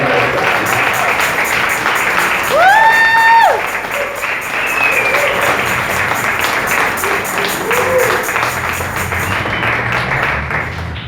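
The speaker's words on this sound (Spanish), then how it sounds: "quiero por favor que lo recibamos con un fuerte aplauso ahora que viene" Church congregation applause welcoming the pastor runs as a steady wash of clapping throughout, with a brief sliding tone and scattered voices mixed in.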